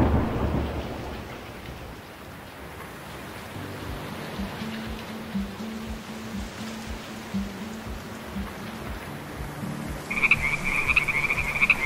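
Rain falls steadily through a gentle low rumble of thunder, joined near the end by a loud, rhythmic croaking chorus of frogs.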